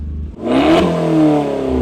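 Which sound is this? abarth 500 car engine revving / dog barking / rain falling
abarth 500 car engine revving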